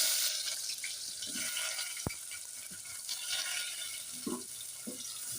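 Onions go into hot oil already seasoned with cinnamon, cardamom and cloves while kushka is cooked, giving a steady close sizzling hiss with a sharp click near the middle.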